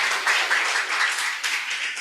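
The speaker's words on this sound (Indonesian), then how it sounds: "Tepuk tangan ya teman-teman." Audience applause at an MDRT Day event session, a steady broadband patter of many hands clapping throughout, fairly loud and continuous with no speech over it.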